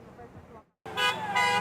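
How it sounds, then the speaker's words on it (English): Car horns honk at a Miami Lakes street intersection during a Cuban-American protest, with several tonal blasts layered with passing traffic and outdoor noise after a brief silent gap. "Drivers honked their horns in support of the Cuban-Americans protesting this morning"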